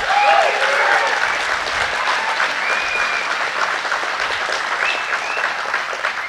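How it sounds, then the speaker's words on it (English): A large outdoor crowd at a Patriots Day pro-Second Amendment rally in Flathead Valley claps steadily for several seconds, a dense wash of applause with a few faint shouts mixed in. "If you're glad you're here, clap your hands."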